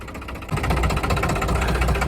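A New Holland tractor engine runs on a snowy slope near Manali, a steady close-up diesel throb with rapid knocking pulses that grows louder after a brief quieter start.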